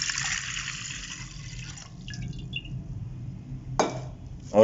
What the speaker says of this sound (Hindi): तो अब हम पूरा मग ही पानी का डालेंगे इसमें।